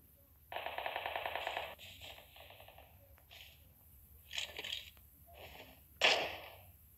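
Automatic gunfire in the video game PUBG: a rapid burst of shots up front, then scattered shorter bursts and single distant cracks, ending with one sharp louder report.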